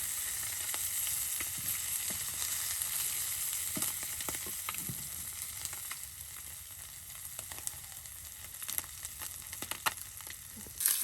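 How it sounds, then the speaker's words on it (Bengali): Tengra fish fry in oil over an outdoor clay stove beside a wetland, giving a continuous close crackling sizzle with scattered sharper pops and no talk. "ট্যাংরা মাছ ভেজে নেওয়া হচ্ছে তেলে।"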